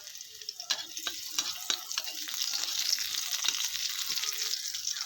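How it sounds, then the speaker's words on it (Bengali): Onion and chopped garlic frying in a pan, a bright continuous sizzle that swells louder midway, broken by a few sharp stirring taps close by. "এই যে কয়েকটা রসুন আমি এভাবে কুচি করে নিয়ে এটাও ফ্রাই করে নিচ্ছি"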